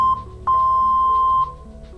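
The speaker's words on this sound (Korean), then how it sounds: "마지막으로 후크 옆에 썸 버튼을 한번 눌러주시면 길게 삐 소리가 나게 됩니다." A Roland Aerophone GO AE-05 digital wind instrument gives a long, steady electronic beep during its factory reset, preceded by a short blip, clear and close with no talking.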